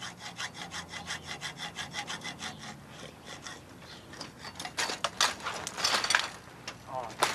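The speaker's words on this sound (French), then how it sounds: "Moi, je préfère utiliser la scie à métaux." A hacksaw cuts through a bicycle padlock in steady back-and-forth strokes, close and rhythmic, growing harsher and more irregular toward the end.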